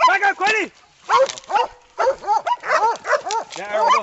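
Hunting dogs bark and yip in rapid, excited bursts during a hog hunt in Tennessee. They are loud and close, with a person shouting among them.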